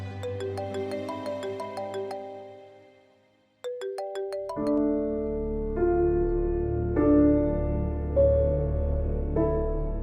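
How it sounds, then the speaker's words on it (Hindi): A melodic phone ringtone plays a repeating tune, pauses briefly, then resumes louder and fuller, continuing steadily for several seconds. "अरे कौन है? उठा क्यों नहीं रही फोन?"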